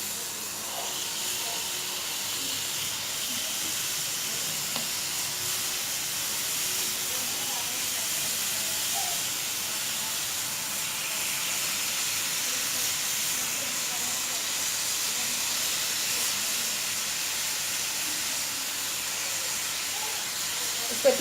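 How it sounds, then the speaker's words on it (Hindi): Fish grilling in a pan for a homemade tuna dish, giving a steady, continuous sizzling hiss that stays loud and even throughout, with faint kitchen noise underneath. "और ये अपनी फ़िश को आप ग्रिल कर लें।"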